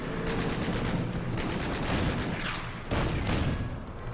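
Gunfire and artillery blasts from a tank attacking a T-34 artillery piece in the Order of Battle war game, set at Stalingrad, a dense, continuous barrage of shots and booms with a heavier burst near the end.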